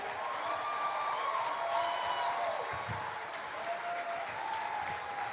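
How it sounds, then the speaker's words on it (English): Sustained applause from a summit audience of entrepreneurs welcoming a speaker to the stage, dense and steady throughout, with a faint voice or tonal line faintly audible beneath the clapping. "Please join me with a warm applause as we welcome Vusi Thembekwayo."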